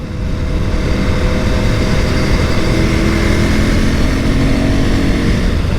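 A 2024 KTM Duke 390 motorcycle engine revs steadily and loudly, a continuous close rumble rising through the range without pause.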